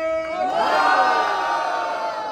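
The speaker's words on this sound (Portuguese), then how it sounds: "Barulho quem gostou das rimas de Derek!" A crowd at a street rap battle semifinal in Itaquera roars and whoops for a rapper's rhymes, with loud overlapping shouts and cheers rising and swelling close by.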